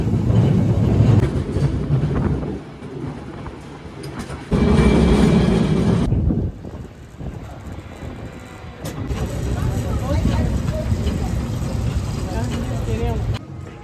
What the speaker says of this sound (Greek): τώρα πήραμε τα τραμ και πάμε μια βόλτα